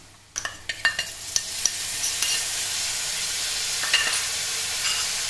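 Garlic ginger paste dropped into hot oil with coriander, black pepper and cumin powders for egg curry, giving a burst of sizzling frying with repeated sharp spoon stirring clicks, then a steady close hiss.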